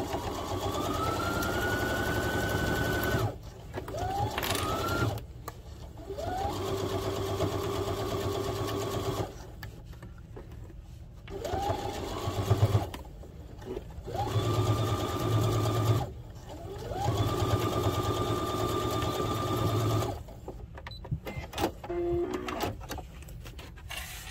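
A sewing machine stitches a quarter-inch seam along terry cloth for skate guards, running in long steady whirring bursts with short pauses between them, loud and close, with no voices.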